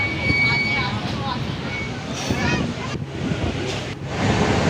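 The Taj Express passenger train moves along, a steady rushing roar of wheels and wind noise heard from inside, with a faint voice in the background and a few brief dips in the rumble.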